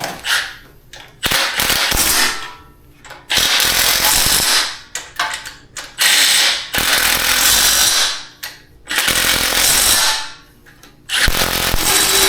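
A socket ratchet works on engine bolts during teardown of a junkyard 5.3 LS V8, giving loud, close bursts of rapid ratcheting clicks separated by short pauses.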